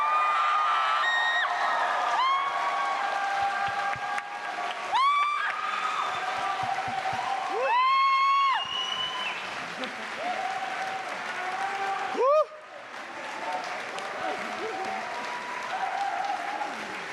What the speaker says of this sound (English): And can we give them a big round of applause?